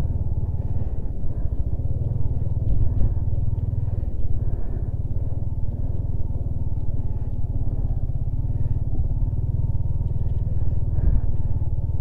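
Motorcycle riding over the snowy, high-altitude Changla Pass through water crossings, a close, steady low engine rumble with rhythmic thumping and wind buffeting throughout.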